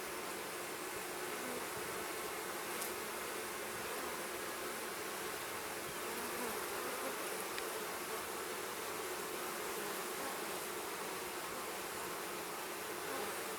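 Honeybees swarm around an open hive during a spring inspection, making a dense, constant buzzing that stays steady and fairly close throughout, with no talk.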